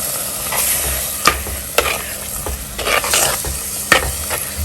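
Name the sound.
tamarind water added to fish curry in a hot pan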